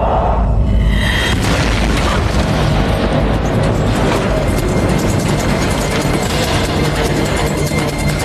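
A sudden heavy boom of an aircraft engine blowing apart mid-flight near cruising altitude, followed by a loud, sustained roar and rumble filling the cabin with no speech.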